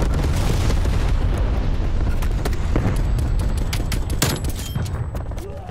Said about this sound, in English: Napalm strike incoming.